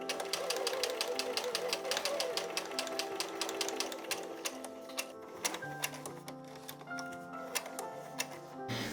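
Sewing machine topstitching around a corset busk, a steady fast needle clatter close by that slows and stops near the end.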